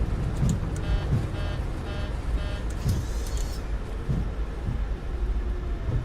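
Boeing 737 MAX 8 thrust reversers roaring on landing in Microsoft Flight Simulator 2024, a steady loud broadband rumble with no pauses, light bumps and faint chimes riding on top.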